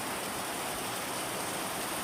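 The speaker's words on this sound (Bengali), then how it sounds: "দুপুর বাজে একটা, দেখো কত বৃষ্টি হইতেছে" Heavy afternoon rain pours down in a steady, dense hiss that stays even and unbroken throughout, with no voices.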